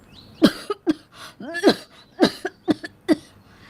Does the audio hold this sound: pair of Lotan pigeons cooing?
no